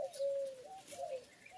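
Birds calling on a farm field on a cool morning: a few soft, faint, tonal cooing calls close together over about a second and a half, with no voices.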